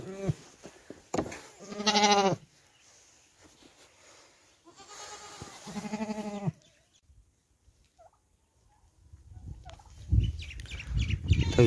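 Grazing goats bleat in loud, drawn-out calls close by, separated by quiet stretches, with rustling and handling noise toward the end.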